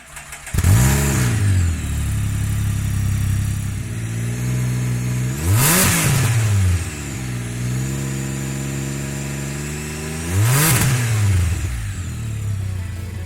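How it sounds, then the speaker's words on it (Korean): A Can-Am Spyder F3S three-wheeler with an Akrapovic aftermarket exhaust idles with a deep exhaust note, then revs hard three times, each rise and fall clearly audible, loud and close. "이어서 아크라 포빅으로 튜닝된 배기음을 들어보도록 하겠습니다"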